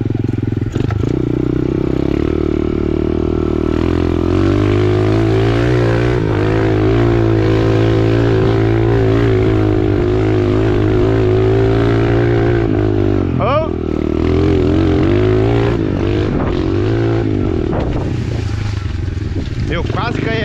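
A motorcycle, ridden after a handlebar change, drones with a steady low engine hum and rumbling tone throughout, loud and close, with a brief dip in revs midway.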